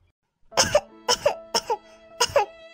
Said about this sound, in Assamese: মা, কি হৈছে তোমাৰ? ইমান কাহি আছা যে তুমি?